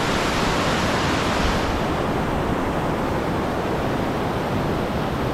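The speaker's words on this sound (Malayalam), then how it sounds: "ഇതാണ് വട്ടത്തിൽ വെള്ളച്ചാട്ടം" Vattathil waterfall and its rushing river give a steady, loud, dense roar of falling and churning water that continues unbroken throughout, with no voices.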